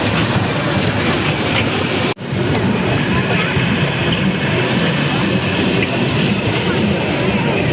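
A children's toy train rolls around a park on a ride, producing a steady, loud rumbling clatter that briefly cuts out near the start. Indistinct voices are mixed into the noise.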